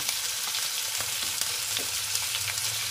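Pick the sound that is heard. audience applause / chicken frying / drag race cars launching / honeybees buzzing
chicken frying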